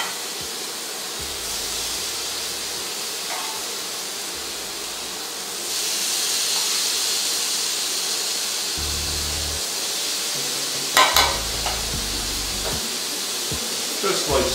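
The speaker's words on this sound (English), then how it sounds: "And I'll lay in my fish. Kind of give it a little brush off. Hit it in the pan." Fish laid into a hot pan for Baja fish tacos, giving a steady broadband sizzle and hiss that swells louder about midway, with a few clattering knocks near the end and no talk.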